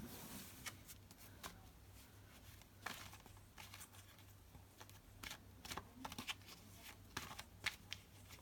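Tarot cards are shuffled by hand close up, a quiet run of soft riffling and sharp flicking bursts at irregular intervals over a low steady hum.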